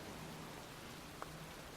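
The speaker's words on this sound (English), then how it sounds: "It's raining. I'm standing outside getting soaked." Rain falling in a cemetery in a video game, a steady, even wash of drops that hisses on without pause, with one faint tap near the end and no voices.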